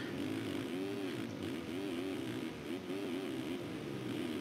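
A 2016 KTM 450 motocross bike races a supercross final at Le Havre, its engine howling loud and close with rising and falling revs through the whole stretch, with no talk over it.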